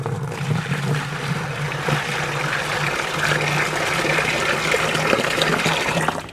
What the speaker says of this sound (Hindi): तो थोड़ा सा हम इसमें पानी को मिक्स कर लेते हैं, थोड़ा सा ऐड करते हैं।